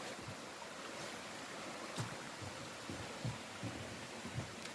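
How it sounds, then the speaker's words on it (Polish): Steady rushing of a stream along a forest hiking trail, a soft continuous wash of flowing water at low level, with a few faint soft thumps breaking through the even hiss. "cisza, szum wody"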